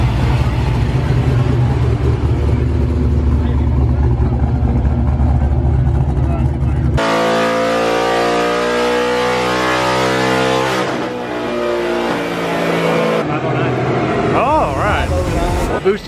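Naturally aspirated cars running hard on dyno rollers at a tuning event, loud sustained engine roar with rising revs and shifting tones, one pull giving way to another, with people talking over the noise.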